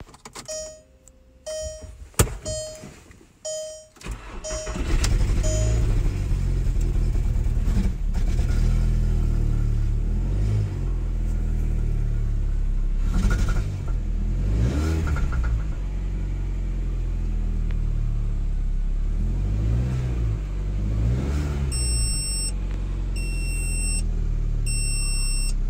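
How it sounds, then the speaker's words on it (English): Blown Volkswagen Beetle engine idling steadily and loudly close by with a persistent tick, after a few sharp clicks and tones at the start and beeping chimes near the end. "this freaking car has the loudest freaking tick in the world whenever it's running."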